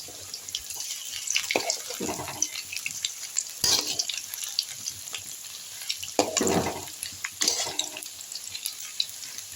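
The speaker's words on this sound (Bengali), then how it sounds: "এই দেখুন ভাজা হচ্ছে, এবার আমি এগুলোকে উল্টে দিচ্ছি।" Pakoras frying in oil give a steady, fairly quiet crackle, with a few louder bursts and clatters as the pieces are turned over.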